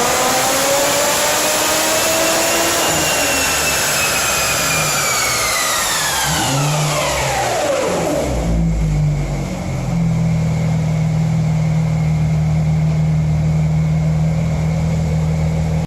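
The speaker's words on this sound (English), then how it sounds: "I was able to stop at the dyno and see the black car that I was working on just before our trip get put on the roller." A tuned Audi B5 S4 making about 400 wheel horsepower, run on dyno rollers: loud engine climbing steadily in pitch through a long pull, then cutting to a low, droning idle with roller hum.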